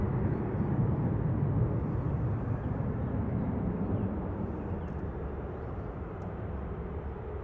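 Qatar Airways airliner taxiing at Manchester Airport, a steady broad jet engine rumble that holds loud and even from start to finish, easing slightly toward the end.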